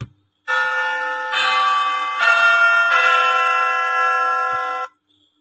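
A clock chimes the quarter hour with four loud, sustained, ringing bell notes, one after another, each running straight into the next, with no talk.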